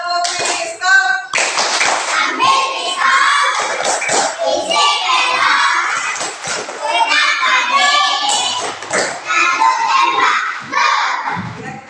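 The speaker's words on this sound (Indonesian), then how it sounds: "Sebelum itu kita buat dulu tepuk pistol" A classroom of children perform the 'tepuk pistol' clapping chant, loud rhythmic hand claps mixed with shouted chanting voices, continuous and close throughout.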